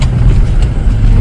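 A Toyota Kijang LGX car rumbles over railway tracks on the way into a spiral parking garage, a brief, heavy, loud low drone of engine and tyres with no clear separate bumps and no talking.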